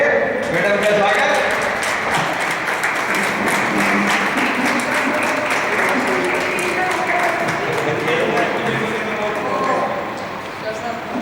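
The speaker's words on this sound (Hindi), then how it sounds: "जोरदार तालियों से मैडम का स्वागत।" Steady, sustained applause from a crowd at a Rotary Club Women's Day event, loud and dense, with voices mixed in underneath, fading slightly toward the end.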